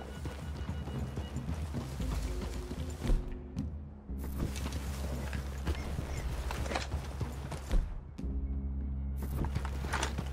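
Horses walk along in the Western video game Red Dead Redemption 2, with steady close clip-clop hoofbeats, occasional snorts and tack rattle over a low outdoor ambience.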